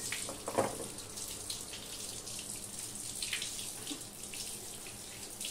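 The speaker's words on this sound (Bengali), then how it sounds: "এই আঠাগুলো আমি সাথে সাথে জল দিয়ে ধুয়ে নেব।" Tap water runs steadily over sliced jackfruit in a kitchen sink to rinse off the sticky sap, a soft continuous splash heard alone at close range.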